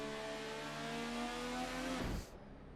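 An Indycar engine in Assetto Corsa at a race start on the Indianapolis oval holds a steady droning tone with engine noise from surrounding cars, then drops abruptly into a bogged-down rumble near the end.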